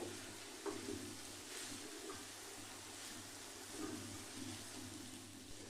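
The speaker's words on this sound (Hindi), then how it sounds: "अब इन सबको हम अच्छे से भून लेते हैं।" Chopped tomato and spices fry in a pan over medium heat, giving a soft, steady sizzle with faint stirring scrapes throughout, fairly quiet and with no talking.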